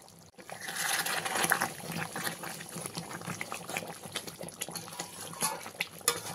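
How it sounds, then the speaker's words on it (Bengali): Fish curry gravy (katla kalia) bubbling and simmering in a pan, a steady close-up wash of bubbling and popping with small splutters throughout, no talking. "গ্রেভিটাকে 6 থেকে 7 মিনিট ভালো করে ফুটিয়ে নিতে হবে"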